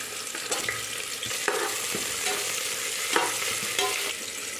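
Sliced onion frying in a pan with cinnamon, cloves, bay leaf and star anise for tomato rice, a steady close sizzle with scraping stirring strokes recurring every second or so.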